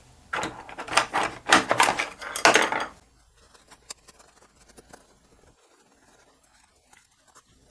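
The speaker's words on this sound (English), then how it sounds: "1/4 inch seam allowance all the way around with my pinking shears" Pinking shears snipping through fabric around a quilted book sleeve, a quick run of about eight crisp, close cuts in the first three seconds, followed by faint handling rustles.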